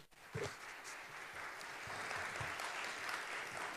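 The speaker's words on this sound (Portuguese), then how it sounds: "Palmas para o Samuel, por favor" An audience at a telecom competition panel applauds moderator Samuel, steady clapping filling the room at moderate volume from start to finish.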